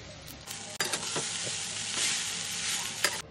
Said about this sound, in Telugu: ఇడ్లీలు నలిపి ఒక చెక్క కింద అయ్యాక ఇందులో వేసి కలపాలి